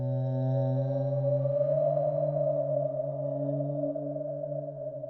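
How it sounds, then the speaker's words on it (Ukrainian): Whale sounds played back as a noise recording: one sustained, deep, moaning tone with layered harmonics that slowly bends in pitch and holds steady for several seconds, with nothing else heard. "Але найстрашніше це, мабуть, шум китів."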